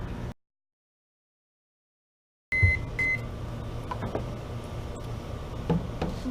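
Microwave oven cooking a paper bag: a short beep, a brief silence, then a door thump and beeps as the oven starts and settles into a steady, close hum with occasional light clicks.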